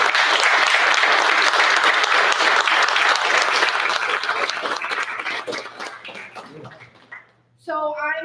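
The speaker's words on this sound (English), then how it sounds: "I want to give everybody a round of applause" A school board meeting audience gives loud, dense applause that slowly thins and fades, then a voice starts speaking as it ends.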